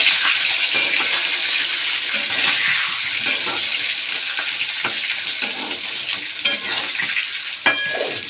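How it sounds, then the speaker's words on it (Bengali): Steady crackling sizzle of potatoes frying in hot oil previously used for frying fish, with occasional stirring clinks and scrapes, close and continuous without any talking. "এবার এই মাছ ভাজার তেলেই আলুগুলো একটু লাল লাল করে ভেজে নেব"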